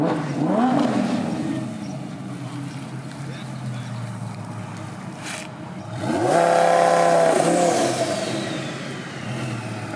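A twin-turbo 1400 HP Lamborghini Huracán accelerates at a rally, its engine rising in pitch twice in strong, fairly close surges, with a voice talking over the roar.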